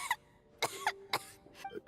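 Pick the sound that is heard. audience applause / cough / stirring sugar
cough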